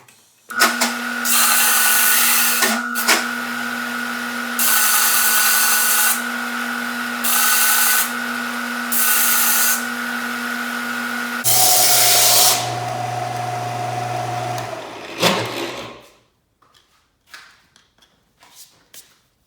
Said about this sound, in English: you're ready for the sanding machine.